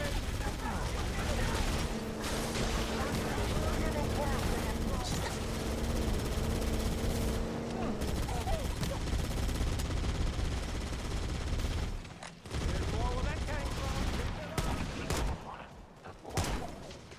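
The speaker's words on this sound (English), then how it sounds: "I would be highly careful running in front of those Marines with that machine gun, bro." Marines fire a machine gun in the Halo CE remake: sustained, dense automatic gunfire rattles on almost without pause, with voices faintly audible beneath the din.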